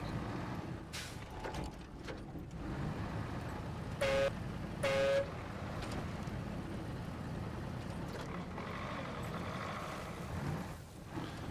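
Two short, high-pitched truck horn toots about a second apart in the video game SnowRunner cut through a steady engine rumble and background noise.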